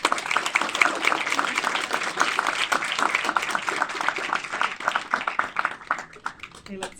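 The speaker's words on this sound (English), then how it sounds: "So can we get a big applause, please?" Audience applause at a senior executive fireside chat on shaping cities, steady moderate clapping from a room full of people that thins out toward the end.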